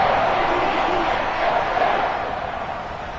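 A Madden football video game stadium crowd roars in a loud, sustained wash of cheering and applause that eases slightly toward the end, with no clear speech over it.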